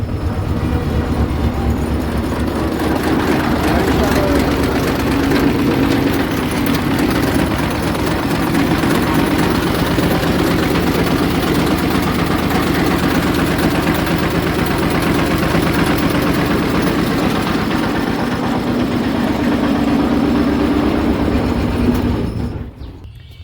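A car's engine, fitted with a new battery, rumbles steadily in a loud, close, continuous idle for over twenty seconds before cutting off abruptly at the end.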